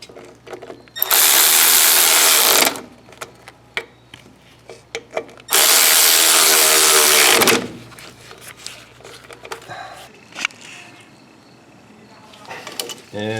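Two loud bursts of a power tool driving in the bolts on a car's brake wheel cylinder, each about one and a half to two seconds long, separated by quieter clinks and handling sounds of the brake work.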